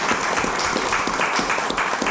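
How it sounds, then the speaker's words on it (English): Audience at a candidates night held at a country club applauds sponsors, a steady wash of many hands clapping at moderate volume with no voices above it. "Nice round of applause for them."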